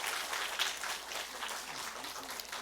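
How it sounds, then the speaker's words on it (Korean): A church congregation at a Sunday worship service applauds after a baptism, with many hands clapping in a soft, even patter that continues without pause, somewhat distant and with no talk over it. "자, 이제 우리 성도님들 박수하시고."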